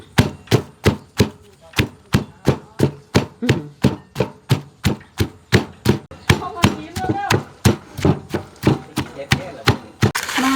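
A pestle pounds Thai spicy salad in a mortar at a steady, brisk rhythm, about two dozen close, sharp thuds in a row, with faint voices in the background.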